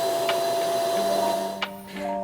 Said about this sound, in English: we'll grab our extractor vacuum and then watch it do its thing